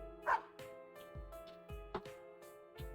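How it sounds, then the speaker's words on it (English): A dog named Snowy, white like snow, barks in a video game, several short sharp barks spaced through the moment with game music underneath. "Snowy barks once, as if comprehending its It's name."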